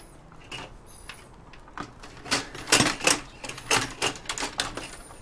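A tightly fitted power supply unit is cut out of a scrapped desktop computer. A run of sharp, clicky crunches and snaps comes close up, growing denser and louder toward the end, with no talk.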